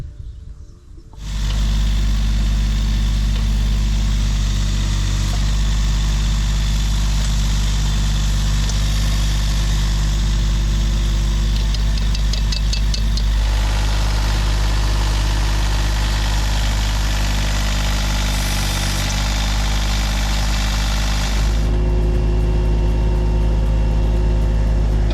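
A backhoe engine idles steadily and loud for the whole stretch, a deep low rumble with steady vibration and a slight shift in tone partway through, used while trenching a new underground garden waterline.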